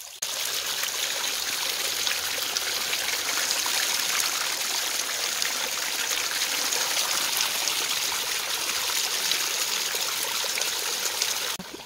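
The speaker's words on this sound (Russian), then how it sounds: "когда журчит водичка, успокаивающая такая" Gently trickling water in a garden, a continuous soft bright babble of a small stream or fountain, steady and close throughout with no talking.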